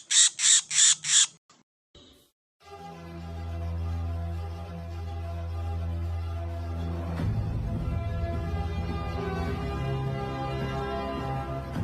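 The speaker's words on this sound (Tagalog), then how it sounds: "sobrang ingay yung nahuli natin na ibon" A noisy captured wild bird gives a rapid series of four loud harsh squawks, then after a brief pause a steady hum-like background with continuous faint bird noise carries on.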